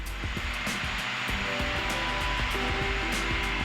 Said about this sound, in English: we're going to add in a couple of hundred RPM